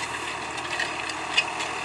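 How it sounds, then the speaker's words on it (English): A big tractor pulling a large grader runs steadily on a rural field in Portugal, its engine giving a continuous mid-pitched drone with a faint rattle and no voices. "Got a nice big tractor with a nice big grader on it."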